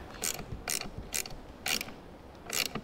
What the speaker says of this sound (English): I'm not gonna tighten it all the way until I get the other ones in there.